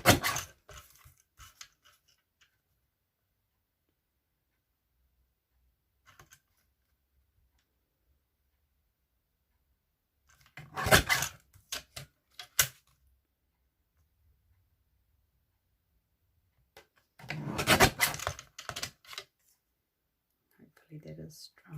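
Paper trimmer slicing cardstock for a Stampin' Up! birthday card: a few short, sharp scraping cuts and clicks separated by long near-silent gaps, with brief handling noises between.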